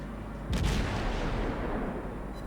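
The guns of the Farragut, a Tier VI US destroyer in World of Warships, fire one sharp salvo. Its boom fades into a low rumble over steady background noise.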